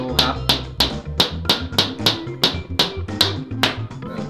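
Someone knocks on a cement board bathroom floor set with tile adhesive, making about a dozen evenly spaced, moderately loud taps in a steady rhythm.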